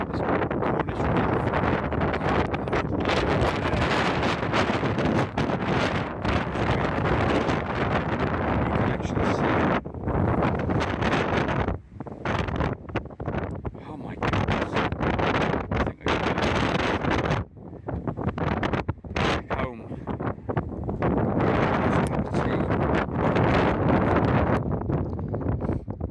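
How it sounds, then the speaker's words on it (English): A strong gale blows across a Cornish hilltop in a snowy blizzard, roaring wind buffeting the microphone almost continuously with brief gusty dips and surges. "Blowing a gale, surprise, surprise."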